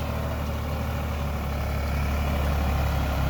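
A New Holland TD4B 65 tractor engine runs steadily at idle nearby, a loud, constant low diesel rumble with no breaks and no talking.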